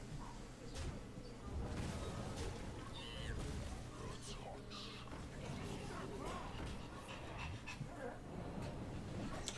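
Dogs whimpering and panting close by indoors, a steady breathy rasp with soft whines scattered through it, under quiet talk from people nearby.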